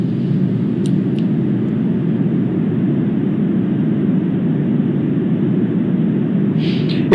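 A Falcon 9 first stage fires a single engine for its landing burn while descending toward a drone ship, a loud, steady low roar filling the whole stretch and ending in a sharp click.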